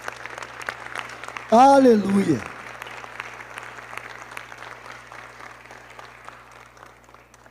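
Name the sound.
church congregation applauding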